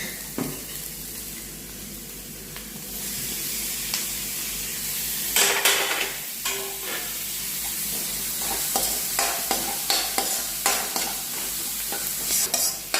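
Chopped tomato is sautéed in a pan, hissing and sizzling loudly throughout with repeated sharp stirring scrapes and clinks at an irregular rhythm.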